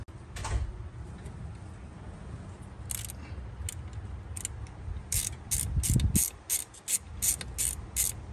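A ratchet works a bolt loose on the engine of a 2007 Chevy Tahoe with a collapsed lifter, giving a run of quick, close clicking bursts through the second half over a low workshop hum.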